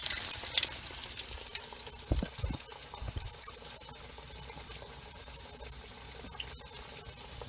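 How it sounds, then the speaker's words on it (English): Steady crackling sizzle of fish frying in hot oil, close and continuous, with a few soft thumps near the start. "Now that's the way you want that frying when you drop that in there."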